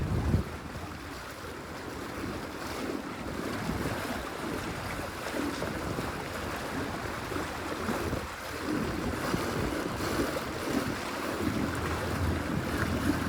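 A PowerPole Move motor pushes a Bonafide XTR 130 kayak along at speed setting 18, heard as a steady rush of water and splashing under heavy wind noise on the microphone, with no talking.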